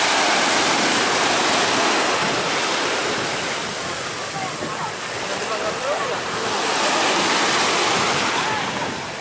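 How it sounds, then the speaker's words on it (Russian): Sea waves breaking steadily on a beach at Novomikhailovsky, a broad continuous roar of surf with rolling swells and some wind, alone and close throughout. "такие волны. Уже такие они. Целиком идут, видишь?"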